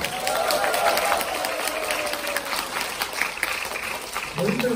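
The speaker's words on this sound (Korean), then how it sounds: "박수 부탁드리겠습니다." An audience claps steadily throughout at a saxophone concert, a dense wash of applause filling the room, with voices faintly mixed in.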